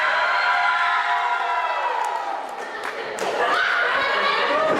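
A wrestling crowd at a memorial tournament event cheers for Camaro Jackson, a steady, fairly loud roar of many voices running underneath a commentator talking over it.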